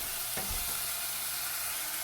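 Crushed garlic hits hot oil in a pan for Kerala rasam, giving a brief clatter and then a loud, steady, close sizzle.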